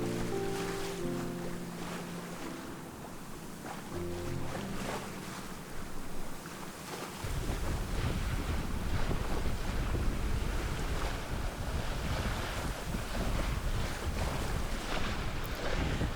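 Sailboat under a reefed main, full staysail and reefed jib, sailing out of an inlet with strong wind rushing across the microphone and water washing against the hull, the roar growing louder about halfway through.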